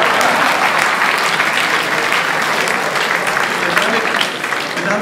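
Loud, continuous applause from a large audience at a 2020 mayoral election panel debate in Ebersberg fills the space without a break.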